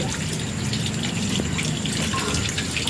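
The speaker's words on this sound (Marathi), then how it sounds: "त्यांना सर्व स्वच्छ धुवून घेते नळावर" Water runs from a tap while crabs are washed beneath it, a steady close gushing splash with small clatters and drips throughout.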